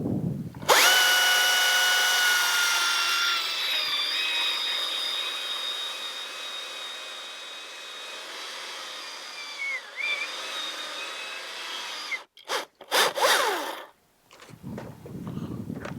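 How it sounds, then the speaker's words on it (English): A chainsaw makes the bottom notch cut at the base of a tree being felled, a loud sustained high-revving whine that holds steady, then breaks into short bursts and pauses near the end. "Now I will start my bottom cut with the very base of my bar and wrap my bar around the tree to make sure it is flat"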